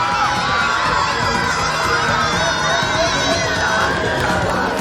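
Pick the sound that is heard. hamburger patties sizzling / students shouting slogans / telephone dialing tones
students shouting slogans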